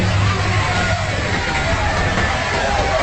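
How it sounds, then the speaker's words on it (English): Strange, unsettling noise rising from a large crowd, a dense continuous hum and murmur of many voices blending into a loud, steady wash with no single speaker standing out. "That's the sound coming from the crowd."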